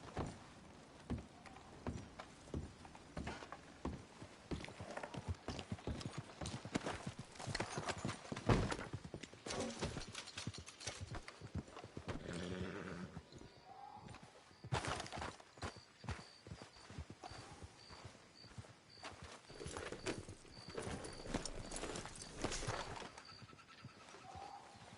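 Horse hooves clip-clop steadily in a PS4 video game, a continuous trotting rhythm over ambient game sounds with occasional bird coos.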